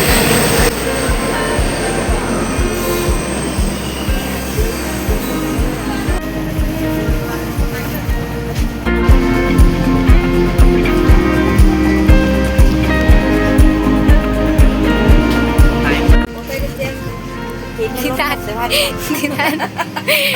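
A train running loudly, with a steady rhythmic clatter of wheels on rails and a low rumble, while people talk nearby.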